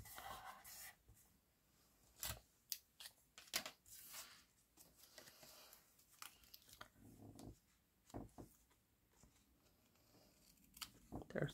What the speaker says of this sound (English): I'm going to snip it off on both ends, I think.